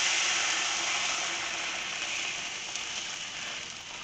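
Short rib braising liquid from a slow cooker sizzles and reduces in a still-hot pan, a steady, close hiss that fades slightly over a few seconds with no talking.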